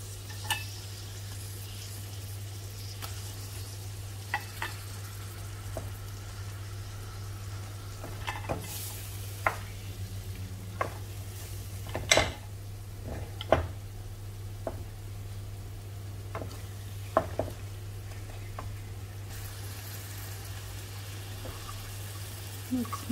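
Fish fries in a pan at home with a soft, steady sizzle, broken by scattered clinks and stirring scrapes at close range.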